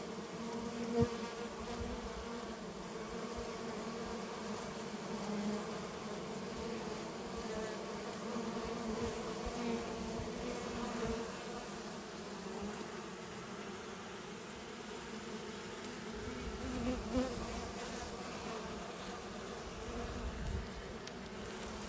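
Honeybees buzz steadily around a hive, a dense close drone with a few brief louder passes, no talking, as they gather near a bee sickened by pesticides.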